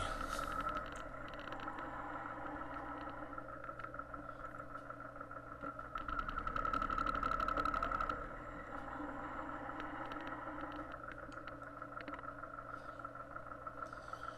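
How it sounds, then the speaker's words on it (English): Motorcycle engine running steadily during a ride, a continuous low drone with a brief swell in revs around the middle, muffled and tinny as if captured through a helmet camera, no talk. "I know my bike sounds a little funny on this video."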